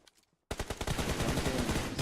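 Rapid automatic gunfire bursts in a PUBG Mobile esports match, starting abruptly after a half-second of near silence and continuing loud and dense to the end.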